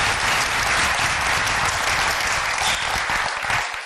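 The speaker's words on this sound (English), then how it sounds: "Can we give the Secretary another round of applause?" Sustained loud applause from an audience for the Secretary after a speech, dense and even throughout, with no voices standing out.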